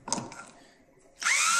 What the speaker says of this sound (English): Your next step, take the screw gun, put it into reverse.